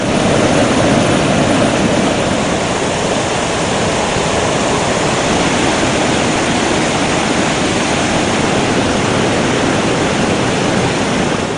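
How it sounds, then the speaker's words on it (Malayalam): A waterfall tumbling over tiered rock ledges at Kambar in Kasaragod, swollen by heavy rain, roars as a loud, dense and unbroken wash of white noise that stays constant throughout, with no voices. "തട്ടുതട്ടായുള്ള പാറക്കെട്ടിലൂടെയാണ് വെള്ളം താഴേക്ക് പതിക്കുന്നത്"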